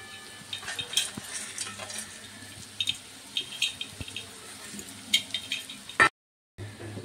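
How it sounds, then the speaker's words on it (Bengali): Fried lentil bori are stirred into radish frying in a pan, with intermittent scraping and clattering strokes over a soft sizzle that stops abruptly near the end. "এবার এর মধ্যে ভাজা করা বড়িগুলো দিয়ে দেবো,"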